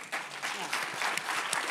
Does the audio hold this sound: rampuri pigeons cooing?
no